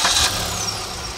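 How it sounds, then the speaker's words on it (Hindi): A Maruti Suzuki S-Cross with a K15B naturally aspirated four-cylinder petrol engine running, heard as a brief, smooth, even engine hum up close. "ये इसका इंजन है, 4 सिलेंडर इंजन है। इसकी आवाज़ हम सुनाते हैं आपको,"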